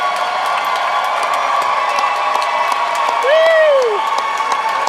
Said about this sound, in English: Please give our undergraduates a warm round of applause.